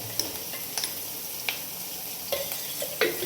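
Tomatoes fry in a pan under a soft, continuous sizzle, while a spoon scrapes and stirs them in a handful of sharp, spaced strokes close by.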